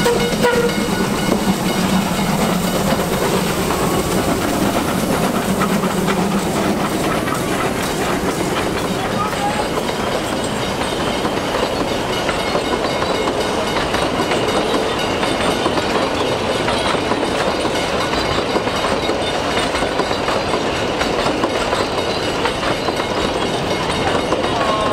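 Puffing Billy steam train rumbling across the long curved Monbulk Creek timber trestle, a loud continuous clatter of wheels and carriages close by, with steady chuffing and rattling throughout and voices faintly mixed in.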